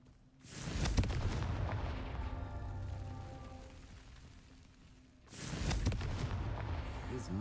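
Two heavy blasts of the Confringo fire spell in Hogwarts Legacy, each a loud booming burst that decays into a rumbling crackle, the second arriving about five seconds after the first.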